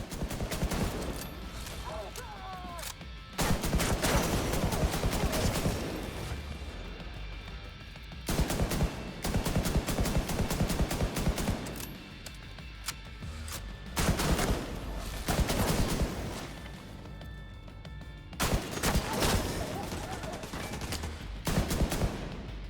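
A legendary sniper rifle in the shooter The Division 2 fires in loud bursts of shots every few seconds, each cluster cracking sharply and then giving way to quieter game ambience.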